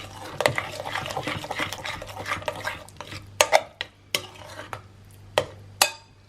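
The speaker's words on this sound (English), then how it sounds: "Starting with the melted butter, and we'll just mix that through." Melted butter being stirred into mashed banana in a bowl, a continuous soft squelchy mixing texture punctuated by several sharp utensil clicks against the bowl, close by.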